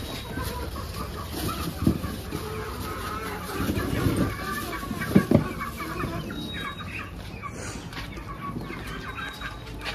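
Chickens cluck while feeding on watermelon rinds and rice alongside goats, with soft, scattered clucks and a few louder bursts over a busy farmyard background.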